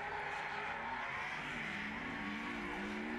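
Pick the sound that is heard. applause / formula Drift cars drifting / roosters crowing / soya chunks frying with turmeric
formula Drift cars drifting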